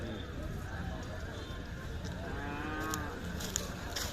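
A pregnant Khillar cow at a crowded livestock market in Maharashtra gives a drawn-out moo partway through, heard over steady crowd noise and nearby voices talking.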